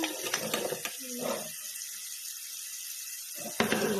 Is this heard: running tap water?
yes